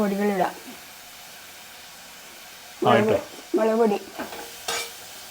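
Tomato fries and is stirred in a pan, a soft continuous sizzle and scraping running beneath a woman's intermittent speech.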